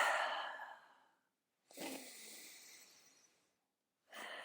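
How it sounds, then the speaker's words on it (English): Slow, deep breaths taken during a meditation: a long airy inhale, a pause, then a drawn-out exhale and the start of another breath, close and soft in a quiet room. "we take a deep breath"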